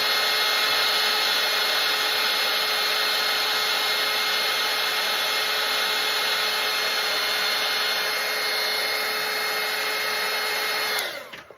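A hair dryer drying a watercolor painting of a Christmas manger blows with a steady, loud, even whoosh for about eleven seconds, then cuts off abruptly at the end.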